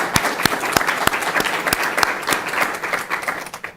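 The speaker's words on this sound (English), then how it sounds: "So maybe just a final round of applause for them." A final round of applause closes a law conference, with dense, loud clapping from a sizable audience and sharp individual claps standing out, holding steady before tapering slightly at the end.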